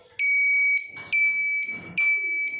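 Car horn wired through a Honeywell domino switch sounds in three short, evenly spaced high-pitched bursts, blinking on and off in time with the signal light.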